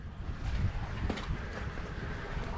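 Strong wind blowing outdoors in Scotland, a steady broadband rush buffeting the microphone with gusty swells throughout, with no talk.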